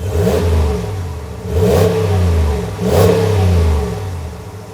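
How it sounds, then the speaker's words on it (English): A deep, throaty V8 exhaust from a Ram 1500 Rebel pickup truck revs three times in even bursts, each swelling then falling back to a burbling idle, close and loud. "is the sound of a proper American truck"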